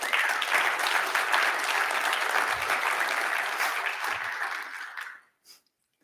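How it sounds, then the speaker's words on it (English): Audience applause fills a live talk event in Louisville, a steady dense clapping crowd for about five seconds before it fades out quickly near the end. "A round of applause, I think."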